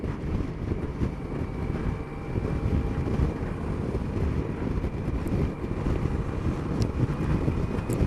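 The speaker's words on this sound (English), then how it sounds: "Little gusts of wind now and again." Wind buffets the microphone on a Yamaha Tracer 900 GT motorcycle ride in a continuous low roar that swells and eases in gentle gusts throughout.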